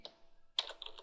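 A computer keyboard types a folder name in short bursts of close, quiet keystrokes, a few isolated taps first, then a rapid run of clicks.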